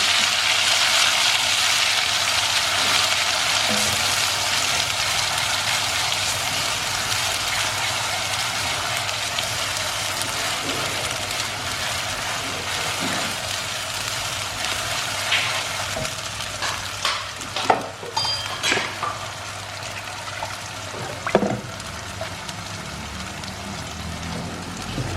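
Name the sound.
water poured into frying paste, sizzling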